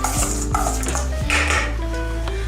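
A freekeh salad with toasted pumpkin and sunflower seeds, nuts, olive oil and salt is stirred in a bowl, with close clinks and scrapes of a utensil against the dish in quick irregular bursts.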